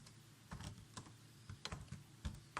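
Computer keyboard keys tapped in short irregular bursts while a layer name is typed in ArcGIS, close and fairly quiet, with soft clicks scattered over a few seconds.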